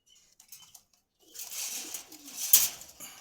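Pigeons at a bird market in Meradia Bazar, Khilgaon, Dhaka, with soft cooing and bird calls that start quietly and rise into a busier, moderately loud stretch, topped by one sharp peak near the end.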